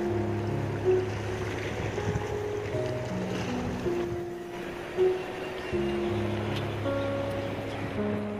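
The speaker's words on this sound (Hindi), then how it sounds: "इस साल स्यांग नदी काफी भयानक रूप ले चुका है।" The Siang River near Pasighat, Arunachal Pradesh, in flood makes a steady, loud rushing roar of churning water with wind buffeting the microphone, while a low droning hum runs underneath throughout.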